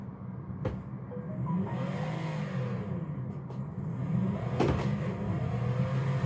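A Mercedes G65 AMG in Forza Horizon 4 rolls over a paved stone road with a steady engine drone and tire rumble, rising slightly toward the end, with a couple of brief sharp knocks along the way.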